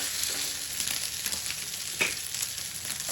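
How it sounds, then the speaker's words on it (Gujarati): Ragda patties frying in oil over a low flame, a steady close sizzle with a brief sharper crackle midway, no voices. "હવે આ રીતે આપણે ધીમો ગેસ રાખી અને એક એક કરીને પેટીસ મૂકતા જઈશું."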